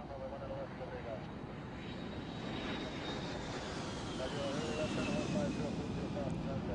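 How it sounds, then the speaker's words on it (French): A Janet airline jet takes off from an airport bound for Groom Lake, its engines roaring steadily in the distance with a whining tone, while a narrator speaks over it. "un autre vol Jeannette décolle en direction de Groom Lake"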